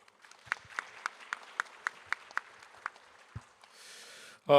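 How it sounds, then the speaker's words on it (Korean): Sparse, fairly faint clapping from a conference audience in a hotel ballroom at an ocean forum in Incheon, individual claps spaced evenly over a few seconds before a brief louder noise at the end. "황기현 교수님께 큰 박수 부탁드리도록 하겠습니다."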